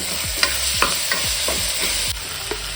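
Onions and tomatoes frying in a pan for paneer pulao, with a steady close sizzle and a spoon scraping the pan in a regular stirring rhythm.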